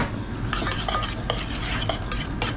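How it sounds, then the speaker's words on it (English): Veg oil, honey and salt are stirred together for honey nuts in a yacht galley, producing a continuous run of quick scraping and clinking strokes, close and steady, with no talking. "mix it together"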